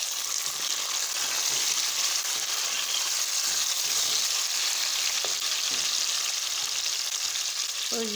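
Tomatoes frying in a pan for keema with chana dal, a constant bright sizzle close by with a few faint utensil knocks and no speech.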